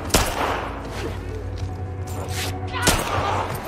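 Rapid bursts of gunfire from The Last of Us combat, sharp loud shots at the start and near the end over a steady dense battle din.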